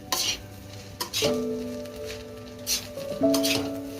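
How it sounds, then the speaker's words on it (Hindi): Egg fried rice with seasoning is tossed and mixed in a pan, with spatula clanks and scraping in uneven bursts over a soft sizzle and a faint sustained ringing tone in the background. "सारी सीजनिंग करने के बाद अब हम राइस को अच्छी तरह से मिक्स करेंगे"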